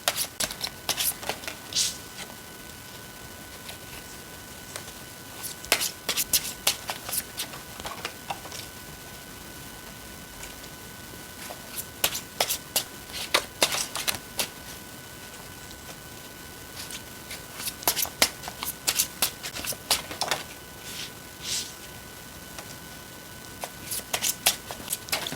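Tarot cards are shuffled by hand in repeated bursts of crisp riffling and flapping, close and fairly loud, separated by short pauses, with no talking.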